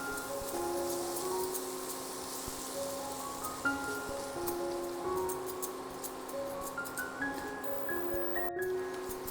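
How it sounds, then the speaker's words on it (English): Chopped onion sautés in ghee with a steady, soft crackling sizzle that runs unbroken from start to finish, under quiet background music with sustained tones. "Then drop in 1 chopped onion and saute it till it changes its color."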